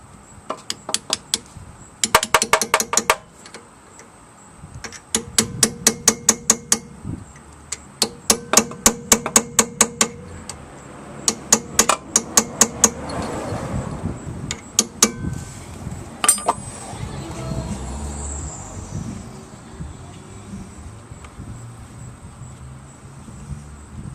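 Sharp metallic hammer blows on a steel punch driving in brake pins on a Saab 9-3 rear caliper, struck in rapid bursts of about a dozen hits each with short pauses, close and ringing, no talking.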